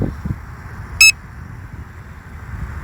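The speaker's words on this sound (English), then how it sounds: "And it beeped twice." A Hubsan Zino 2 drone emits a short, sharp electronic beep in flight outdoors, a single brief burst over low wind rumble.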